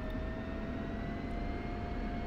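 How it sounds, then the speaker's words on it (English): F-16 Viper jet in the DCS combat flight simulator taxiing onto a runway, a steady droning engine whine with a constant high tone, moderately faint and unbroken, with no voices. "we're good to taxi onto the runway"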